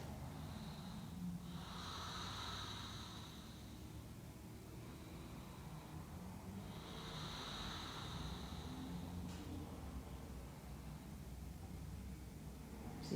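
Slow, deliberate breaths during a power yoga class in a studio, with two long inhale-exhale swells about five seconds apart, soft and airy over steady low room noise, no talking.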